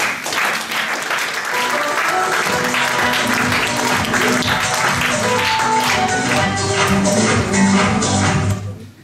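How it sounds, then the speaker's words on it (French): A live audience applauds Thierry at a French stage show: sustained, dense clapping over the full stretch, steady and fairly loud, with musical tones and faint voices underneath. "on peut l'applaudir"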